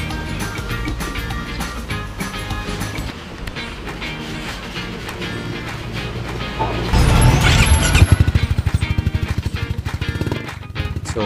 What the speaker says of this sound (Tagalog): mabago yung tunog ng motor niya kaya nagpa-full exhaust.